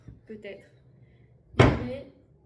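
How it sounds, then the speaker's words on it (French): A household door that no longer closes properly is pushed shut with a single solid thunk, preceded by faint knocking and handling sounds in a quiet room. "J'ai ma porte qui ferme plus."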